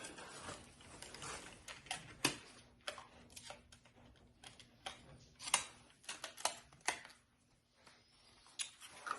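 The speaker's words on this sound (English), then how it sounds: "So now let's get the other side bolted on." A toolbox is bolted onto a shop truck with a ratchet, giving irregular close clicks, metallic ticks and clanks, plus a few quiet pauses and no speech.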